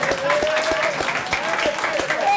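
Audience applause at a Kenyan stand-up comedy show, dense broadband clapping heard close and steady, with a whistle-like tone gliding through it.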